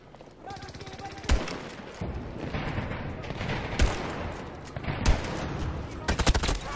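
Gunfire from an iron-sight gun in a western-themed video game shooter, several sharp loud shots spaced irregularly over a busy background of game noise, with someone talking between the bursts.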